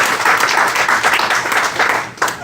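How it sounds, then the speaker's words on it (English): Applause from a seminar audience, a brief, fairly loud burst of many hands clapping steadily close by, tapering off near the end. "Give them a round of applause."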